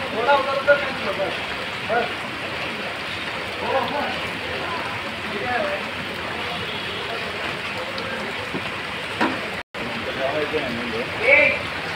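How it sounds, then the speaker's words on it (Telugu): Heavy rain pours down over Hyderabad in a dense, constant wash of noise with scattered splashes, while a voice speaks intermittently over it. "హైదరాబాద్ని వెంటాడుతున్నటువంటి వర్షం"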